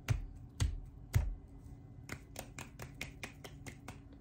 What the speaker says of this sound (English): That is technically a form of a snap